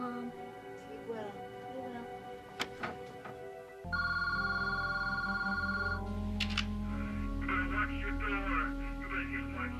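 A telephone rings repeatedly in a house at night, electronic tones over a muffled background, with voices talking over it.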